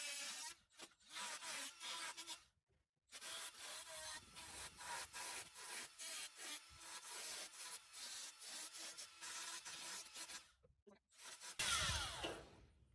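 A carbide burr bit grinding away metal to open up a clutch master cylinder bracket on a Chevy Nova, a loud, steady rasping grind broken by several short pauses, close and with no talking.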